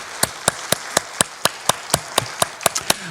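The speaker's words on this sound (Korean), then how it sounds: "신실하신 하나님께 영광의 박수 올려드리겠습니다" Steady rhythmic handclaps from a church congregation giving praise, about a dozen sharp claps at an even beat, fairly close and distinct, with no talk.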